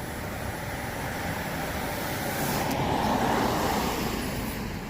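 A Lian Sheng LS124 runs at full throttle in a constant, loud, rushing roar that swells slightly midway and holds steady, with nobody speaking.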